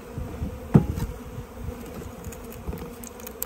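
Honey bees from a package being installed into a hive, buzzing as a steady close drone with a few louder passes near the microphone amid light handling noises.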